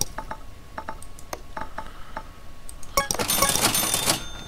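Purchase sounds from Car Mechanic Simulator 2015 come as a series of quick clicking ticks, then a bright jingling register-like chime swells near the end, crisp and close.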